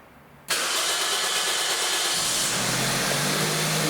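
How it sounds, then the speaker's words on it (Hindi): A car engine starts abruptly, cranking and catching within a second, then settles into a loud, steady idle that continues to the end; close and alone, during diagnosis of an ECM transistor and driver fault. "फिर से ऑन करूँगा गाड़ी को।"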